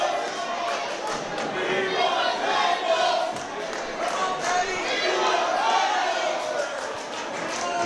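A wrestling crowd roars and cheers wildly and continuously around a table spot, loud dense noise with sharp shouts and thuds poking through, while a commentator talks over it.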